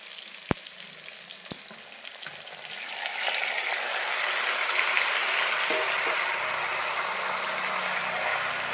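Marinated duck meat hits a hot pan of softened fried tomato with a couple of sharp knocks, then a loud, steady sizzle and crackle of frying rises and holds throughout.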